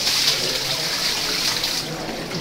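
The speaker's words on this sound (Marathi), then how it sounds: "इथे गाईच्या मुखातून पाणी येतं" Spring water gushes from a cow-head spout at a Konkan pilgrimage site, a bright steady hiss and splatter filling the scene, close and unbroken throughout.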